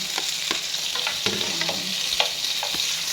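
Tomato, ginger and liver frying in a pan with steady, close sizzling, broken by repeated scraping clinks of a utensil stirring at an uneven pace.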